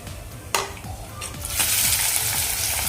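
Chopped onion drops into hot oil with popped mustard seeds, bursting into a loud sizzle halfway through and staying as a steady broad crackle, with a few utensil knocks in the pan.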